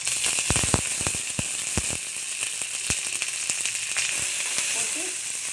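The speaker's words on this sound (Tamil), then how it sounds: "கொஞ்சம் கருவேப்பிலை போட்டுக்கலாம்." Curry leaves hit hot oil in a home lunch pan, giving a steady close sizzle with sharp crackling pops that come thickly at first and then thin out.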